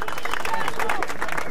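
Rap battle audience applauding, a dense wash of clapping mixed with crowd chatter and shouting voices, loud and continuous for a brief stretch.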